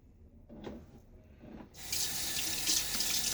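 A tap is turned on and water runs steadily into a sink while shaving soap is being mixed. A few soft handling knocks come first, then the flow starts and continues strongly and close by.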